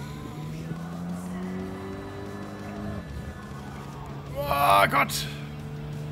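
A Renault Clio's engine in Gran Turismo 7 climbs steadily in pitch through the revs, drops at a gear change and climbs again, while someone talks and exclaims loudly over it near the end.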